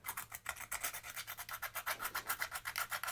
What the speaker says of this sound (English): I'm gonna have to sand that off.